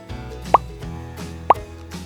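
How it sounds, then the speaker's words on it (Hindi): About a tablespoon of honey added to a brown sugar sauce for Mongolian beef, giving two short, soft plops roughly a second apart in a quiet kitchen. "अब मैं डालूंगी इसके अंदर शहद।"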